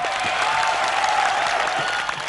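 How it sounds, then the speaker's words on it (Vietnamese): A studio audience at a Vietnamese television game show breaks into steady, dense applause that fills the whole moment at an even level, with a faint voice held in the background. "chúng ta hãy dành một tràng pháo tay cổ vũ tinh thần"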